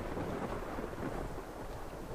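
A steady thunderstorm in the video game Ark, with a constant rumbling wash of rain and low thunder rolling underneath, dense and unbroken throughout without any talk.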